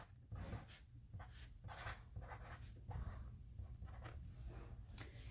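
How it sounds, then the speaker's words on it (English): A marker or pen scratches out a sequence of quick strokes on a board while a math problem is being written larger, with short bursts and pauses between them. "So what I'm going to do is I'm going to write it a little bit bigger."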